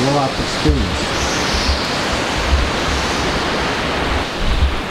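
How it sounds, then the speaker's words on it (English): Hurricane wind roars steadily alongside surf, a dense, loud rushing that never lets up and swells slightly in places, with a brief voice near the start. "when the wind hit that screen, just a big cloud of mist that like blew it in"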